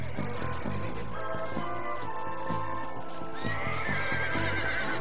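Horses neigh and whinny repeatedly over clopping hooves in the video game Red Dead Redemption, loud and close, with no talking.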